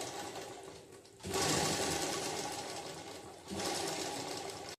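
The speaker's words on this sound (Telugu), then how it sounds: "ఇలా నెక్ మొత్తం ఇలా నీట్గా కుట్టేసుకోవాలన్నమాట లైనింగ్కి" Sewing machine stitching the lining around the back neck of a blouse: a steady electric motor whirr with rapid needle chatter, two bursts separated by a brief slowdown, close and fairly quiet, with no speech.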